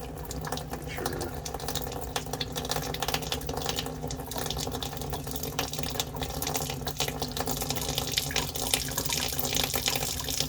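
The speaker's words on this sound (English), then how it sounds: "you're going to hear a bunch of air come out of here" Air and water sputtering out of a hot water heater pipe after the supply is turned back on, a continuous rushing gurgle with irregular spitting bursts, close and steady, with someone talking over it.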